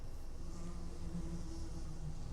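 Bees from a Minecraft GrowthCraft apiary buzz in a steady, soft drone, a continuous insect hum with no voices over it for the whole stretch.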